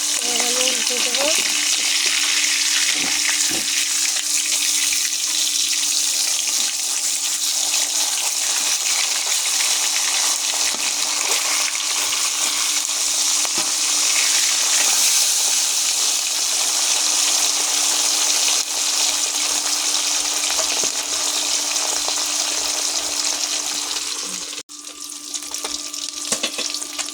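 Kalbaus fish frying in oil after being turned over, a loud continuous crackling sizzle with a few small clicks, dipping and thinning briefly near the end.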